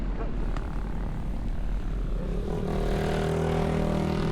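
A motor engine drones steadily close by, its rough rumble rising into a steadier pitched whine toward the end.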